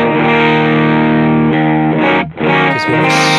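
Electric guitar through an NRG Purrer dual gain channel overdrive set for a scooped-mid tone, sustained thick distorted chords ringing loud and alone, with a brief cut and a new strum near the end.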